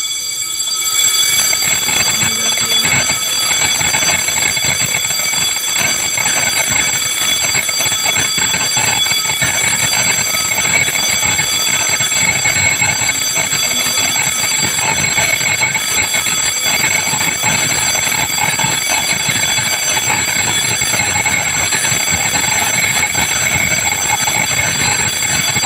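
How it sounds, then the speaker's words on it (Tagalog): Fire alarm in an admin building, malfunctioning and being reset: a continuous, loud, steady electronic ringing with bright high-pitched tones that run unbroken and alone, without pauses or talking. "Ano yan eh, yung fire alarm na yan."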